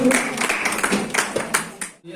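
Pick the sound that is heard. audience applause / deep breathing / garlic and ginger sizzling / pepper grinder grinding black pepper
audience applause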